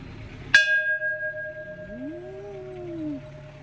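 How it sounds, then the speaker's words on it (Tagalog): A temple bell in Chiang Rai, Thailand, is struck once with a sharp clang, then a long ringing tone decays slowly, while a faint wavering sound rises and falls underneath. "So magre-ring tayo ng bell."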